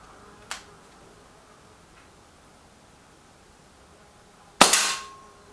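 Two sharp shots from air rifles, a Walther Rotex RM8 and a Lee Enfield, fired at targets: a faint crack early on, then a louder close snap with a short ringing tail, separated by quiet.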